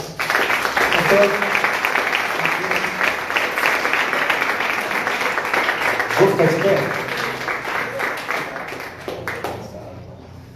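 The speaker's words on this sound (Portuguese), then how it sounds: "Pode aplaudir o Senhor Jesus." A church congregation applauds during a worship service, sustained dense clapping lasting about ten seconds under a voice speaking over it, tapering off near the end.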